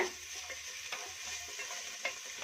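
Coriander leaves fry in hot oil for coriander vada, giving a steady soft sizzle with a few faint clicks of a spoon against the pan, close and fairly quiet.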